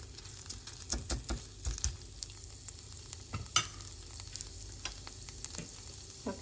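Ginger browning in hot oil in a pan for Gujarati spinach kadhi, a close, steady sizzle broken by frequent scraping and stirring clicks, with no talking.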